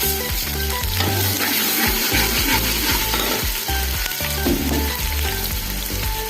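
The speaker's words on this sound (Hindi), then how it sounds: "अब हमने इसमें अदरक लहसुन का पेस्ट डालना है।" Loud, continuous sizzling of ginger garlic paste frying in hot oil with browned onions, with scraping and stirring noises close up throughout.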